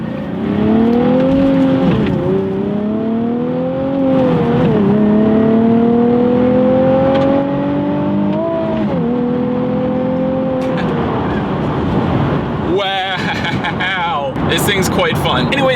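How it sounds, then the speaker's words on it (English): A 2016 Nissan 370Z sports car accelerates hard through several gears, its engine note rising in strong sweeps broken by brief dips at each shift. The car is loud and close, and there is a brief squeal near the end. "Let's do a little quick acceleration, see how quickly we can get up to speed here."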